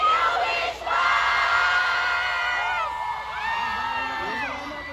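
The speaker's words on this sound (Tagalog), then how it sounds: "sabay-sabay tayo sumigaw ng Thank you, Wish Boss!" A concert crowd at a show shouts and screams together in unison, loud, high-pitched massed voices surging and then breaking into scattered whoops and yells.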